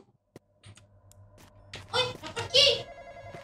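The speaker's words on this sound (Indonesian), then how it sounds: "Ada telepon. Teleponnya di mana?" A telephone rings with a bright electronic trill in a Roblox game, rising in loudness over a low hum, with faint movement noises before it.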